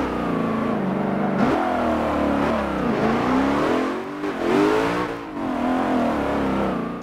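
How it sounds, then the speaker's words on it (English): A 1,000-horsepower race car engine in Forza Motorsport 7 revs hard and continuously, pitch rising and dipping as it accelerates and shifts, loud and close with no talk. "I'm scared to press the gas full way in first or second because it just whips the car around"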